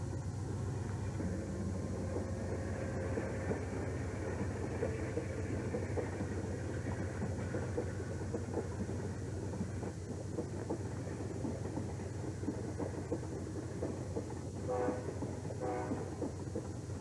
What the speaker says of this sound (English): Amtrak's eastbound Southwest Chief pulls off the siding just 10 miles out of Trinidad.